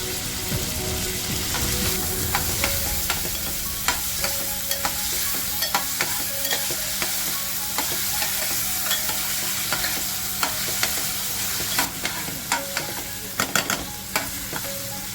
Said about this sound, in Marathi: भाजून घेतला आहे तो कांदा टाकते बघा तेल छान तापलेलं आहे